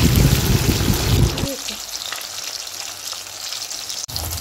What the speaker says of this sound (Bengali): ইলিশ মাছ ভেজে নিচ্ছি